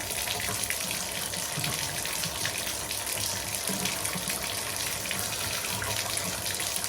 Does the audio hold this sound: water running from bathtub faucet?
yes